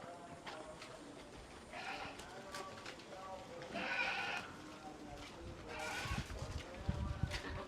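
Barbari goats and their kids bleat repeatedly at a breeding farm in Mangaon, several overlapping calls near and far, with people talking throughout.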